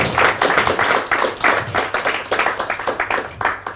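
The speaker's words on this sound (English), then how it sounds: "Oh, somebody's going to applaud." Audience applause after a Kubernetes meetup talk on CRDs: steady, fairly close clapping from a small crowd that runs the whole time with a dense, even rhythm and no speech over it.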